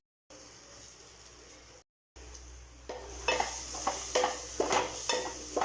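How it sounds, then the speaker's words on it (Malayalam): Tomato gravy with chili and turmeric powder being sautéed in a pan: a spoon scrapes and stirs in a regular rhythm of about one stroke per second over a low sizzle, after a brief quieter stretch and a short gap. "നന്നായി വഴറ്റി കൊടുക്കുക."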